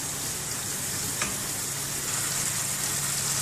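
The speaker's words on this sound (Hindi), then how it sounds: "देखिए ये मसाला इसका भुन रहा है।" Stuffed bhindi masala fries in a pan while being stirred, a steady soft sizzle with an occasional scrape of the spoon, heard alone with no talking.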